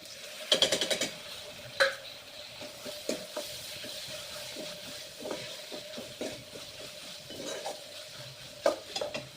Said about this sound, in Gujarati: ડુંગળીમાં ગોલ્ડન કલર આવી ગયો છે. તવામાં આપણે ટામેટા એડ કરી દઈશું.